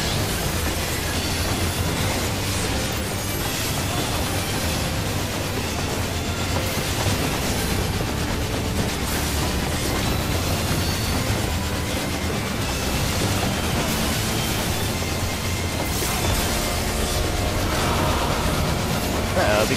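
A train rolls steadily through a scene in the video game Final Fantasy XIV, dense continuous rumble and rhythmic clatter of wheels on rails, loud and close for the whole stretch, with faint squeals riding over a heavy low drone.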